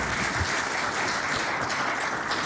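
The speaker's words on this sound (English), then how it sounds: "I just ask that everybody give her a warm welcome and a round of applause." Applause in the House of Assembly during a legislative sitting: a roomful of hands clapping in a steady, dense wash that holds for the whole stretch.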